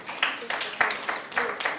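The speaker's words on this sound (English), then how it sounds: "Another round of applause for her, please." Scattered hand claps from a small group after a business networking session, uneven and fairly faint, with a few sharper claps standing out.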